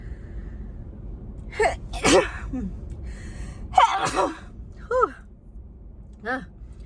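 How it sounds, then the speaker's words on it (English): A person sneezes amid breathy gasps and sighs, several sharp nasal bursts spaced over a few seconds, close up, with a low background rumble. "I have to sneeze"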